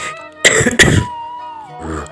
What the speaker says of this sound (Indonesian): Batuknya dia.